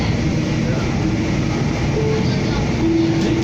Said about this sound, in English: I just love recording LRT trips.